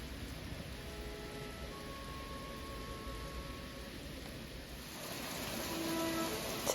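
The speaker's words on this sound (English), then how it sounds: "To listen to the rain pouring down" Steady rain pours down outdoors in a continuous, even hiss that fills the whole stretch, with a faint tone drifting through and a slight swell toward the end; no talking.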